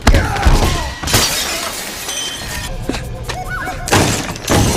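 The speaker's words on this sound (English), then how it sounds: "And here he's crashing through another window." A man crashes through a glass window in a movie scene, giving loud shattering and breaking bursts with thuds, set among other film sounds and music.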